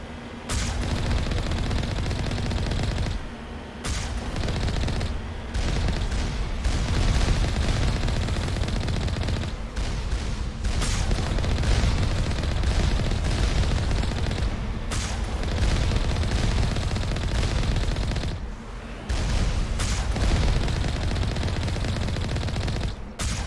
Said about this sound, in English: Those rockets are missing by a mile.